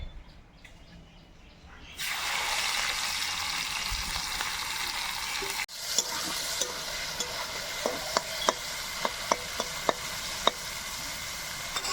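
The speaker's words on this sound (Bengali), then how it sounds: "আর আলু ভাজার তেলে চিংড়ি মাছগুলো ভেজে নেব।" Prawns fry in a kadai of leftover oil from frying potatoes. After a quiet start, a loud, steady sizzle bursts in and continues, with a run of sharp spatula clicks from stirring and faint birdsong in the background.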